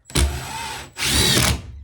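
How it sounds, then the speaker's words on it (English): Power drill driving screws into the framing of a garden shed being converted into a grow room, two loud close bursts of whirring drive separated by a short pause. "now I'm putting in the final screws and we will be done"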